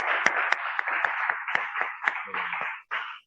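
A class of children claps their hands together in a short burst of fairly even, brisk claps that stops abruptly, with a teacher's voice briefly heard.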